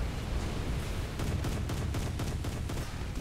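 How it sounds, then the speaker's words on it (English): Naval guns fire in rapid bursts during a War Thunder naval battle, with dense overlapping booms and crackling cannon fire forming a steady barrage that stays loud throughout, with no voices. "firing your guns and holding down the fire button until something happens"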